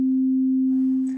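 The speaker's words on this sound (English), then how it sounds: "A sound that vibrates at only one frequency is a sine wave." A pure sine wave tone held at one steady frequency, loud and clean on its own, with a faint noisy hiss creeping in toward the end.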